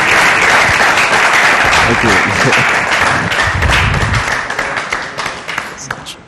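Audience applause at a comedy show tribute, loud and dense from start to finish and thinning toward the end, with a brief spoken word over it.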